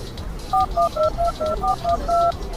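Telephone keypad tones beep in a quick series of about eight short dual-tone presses as a number is dialed, clear and close over a quiet background.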